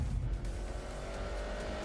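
The Aerodrome car from the Grand Tour Game, with a rebuilt engine of new rods, pistons and turbocharger making 330 horsepower, driven backwards. It gives a steady engine drone with a light tire hiss and no voices.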